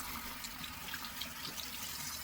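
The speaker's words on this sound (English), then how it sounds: "we're gonna just wet it a little bit with some warm water" Warm water runs steadily from a bathroom tap onto a dish sponge, a close and even hissing splash with no talking.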